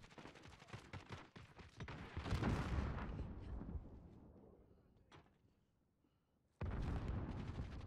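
Heavy shotgun blasts boom through a video game firefight, a dense cluster of loud shots and rumbling impacts that decays into near silence before another burst of fire erupts; a voice is faintly present in the mix.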